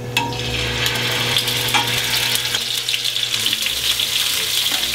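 Scallops sear in a hot pan with a little oil, giving a steady, close sizzle and crackle that runs unbroken throughout, with occasional faint clinks from utensils.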